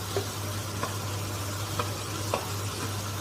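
Capsicum is stirred into frying paneer bhurji in a pan, a soft steady sizzle with a low hum and several light scraping stirs spaced about every half second, no talking.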